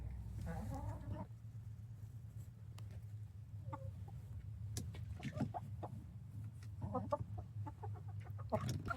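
Silkie hens cluck softly in a backyard coop, with a few scattered murmuring clucks over a low, steady background rumble.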